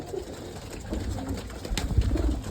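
Domestic pigeons of Turkish fancy breeds coo softly and repeatedly, close by, in low rolling calls with some rustling in the background.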